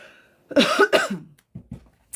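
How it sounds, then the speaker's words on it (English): Two sharp, close coughs in quick succession, followed by a couple of short, softer throat sounds. "As now I'm coughing in your ear."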